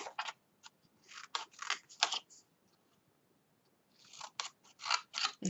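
Scissors snipping a straight-edged piece of material for a large keepsake box, a series of close, crisp cuts in two bursts separated by a quiet pause.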